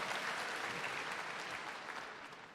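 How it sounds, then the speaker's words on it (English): A crowd at the YMCA 175 opening ceremony gives a dense, continuous round of applause, many hands clapping at once, tapering slightly toward the end. "Round of applause for yourself."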